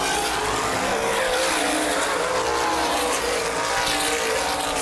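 Outlaw sprint cars race around Baer Field Speedway, a dense, continuous roar of several engines at full throttle filling the air from a moderate distance without a break.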